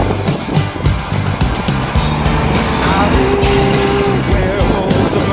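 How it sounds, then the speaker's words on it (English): A truck engine running in Montreal traffic, a loud steady mechanical drone with a rising tone partway through, alongside music and busy street noise. "That's how a truck's supposed to sound, baby."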